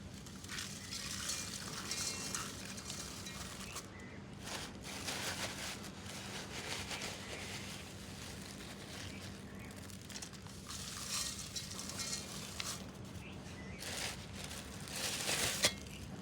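Dahi raita is stirred in a pan in a village-style kitchen, making a faint, continuous wet sloshing and scraping that comes in uneven bursts over a low background hum.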